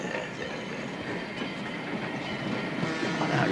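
A train rolls along the tracks with a steady rumbling clickety-clack of wheels, close and continuous, with no voices.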